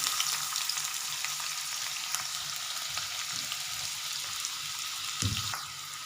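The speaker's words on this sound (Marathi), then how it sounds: "कढई गरम झाली की आपण त्याच्यामध्ये आपण जो कांदा घेतलेला आहे तो घालायचा आहे" Onion frying in a little oil in a hot kadai for a Maharashtrian mutton dish gives a steady, close, dense sizzle that runs throughout, with a short clatter of stirring near the end.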